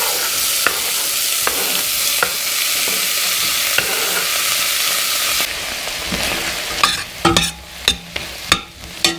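Vegetables sizzle in hot oil in a pan for red lentil soup, a loud steady hiss close by, followed by a run of sharp scraping and clattering strokes as they are stirred.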